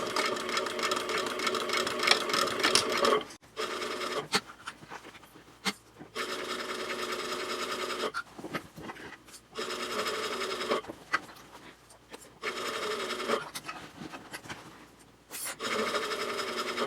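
Up close, a sewing machine stitches binding all the way around a zipper pouch at a 2.5 stitch length, running in several loud bursts of rapid whirring separated by short pauses and handling sounds.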